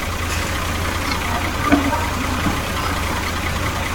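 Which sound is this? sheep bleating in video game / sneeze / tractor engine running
tractor engine running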